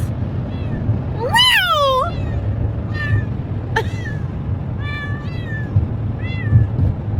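A cat meows repeatedly inside a moving car on a highway, several rising, drawn-out calls spaced a second or so apart over a steady low road and engine rumble.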